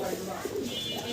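Pigeons coo in a loft, a short burst of soft, throaty calls close by, partly under a voice.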